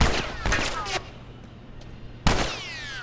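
Gunshots in The Last of Us Left Behind: a quick burst of sharp shots at the start, then a lull and one more loud crack near the end, each followed by ringing echoes.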